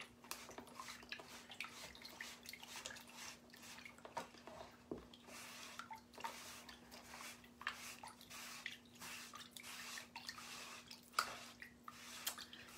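A craft transfer being washed by hand in a bucket of water, giving quiet, irregular splashes, drips and squishy swishes that repeat throughout, close and faint, with no talking.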